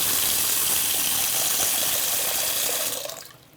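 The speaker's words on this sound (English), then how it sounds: "I'm going to put a quarter pot of water in here." Water pours steadily into a pot for steaming rice, a continuous close gushing that cuts off near the end, with no talking.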